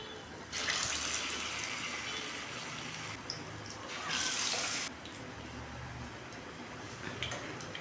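Potato bondas go one at a time into hot oil, giving a steady close sizzling hiss that surges louder around the first second and again midway before settling back.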